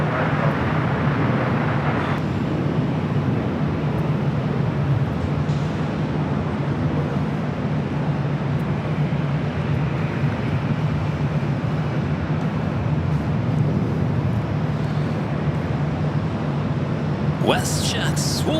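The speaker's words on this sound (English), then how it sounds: "Flight 1102 coming in from Toronto is 737-800." A Swoop Boeing 737-800 on flight 1102 from Toronto arrives at Los Angeles International Airport, its jet engines producing a loud, steady broadband roar that holds unbroken throughout, with a few sharp higher sounds near the end.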